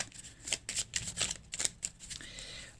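Tarot cards are shuffled and cut by hand in a quick series of crisp riffling flutters and soft slaps, close and fairly quiet, ending in a brief slide.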